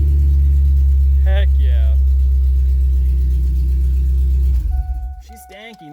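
A Ford 6.0 Powerstroke diesel engine idles loudly and close with a deep, uneven rumble from a dropped cylinder, then cuts off near the end; someone speaks briefly over it.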